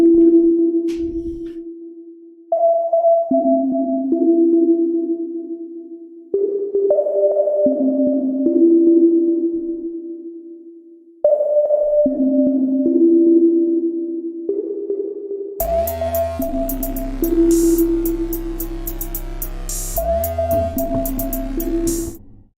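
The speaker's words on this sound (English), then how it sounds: "I'll leave you with this badass beat that was given to me by a friend of mine." A music beat plays alone: sustained synth-like melodic tones step through a slow phrase, then punchy drums and bass kick in for the final stretch, loud and up front.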